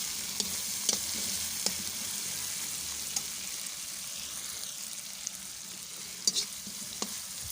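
Aloo gobhi, potato and cauliflower, sizzles in a pan under a steady soft frying hiss, with occasional light clicks of a spoon stirring, close and moderately quiet, no voices.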